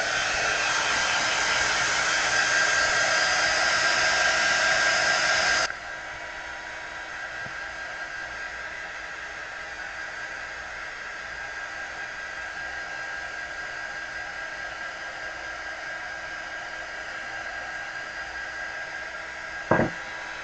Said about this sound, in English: I'm going to turn the heat gun on real quick.